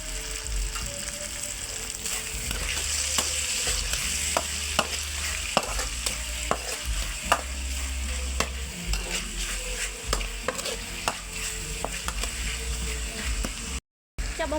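Bean sprouts with tofu being stir-fried in a pan, giving a steady sizzle throughout with repeated sharp scrapes and clinks of the utensil against the pan, close and fairly loud.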